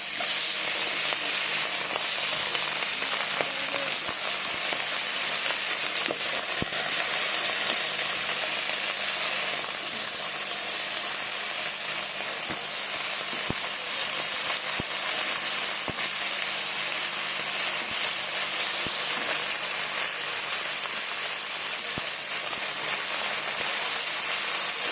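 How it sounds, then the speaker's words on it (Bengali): Oil sizzles steadily in a hot wok as pieces of fish fry, a constant bright hiss running evenly throughout with small crackles, no talk. "তেল গরম হয়ে গেছে, এবার মাছগুলো ছেড়ে দিব।"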